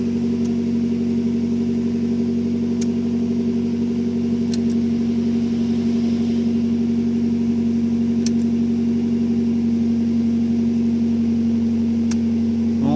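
A Honda Civic EG with a D15B engine idling before reaching normal temperature, a steady, even hum that holds constant and loud throughout, with a few faint clicks over it and no talking.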